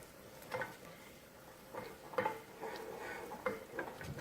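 Pumpkin and sweet potato pieces cooking in a pan with softened onion, a quiet low sizzle broken by a few soft spoon scrapes and light pan knocks spaced a second or so apart.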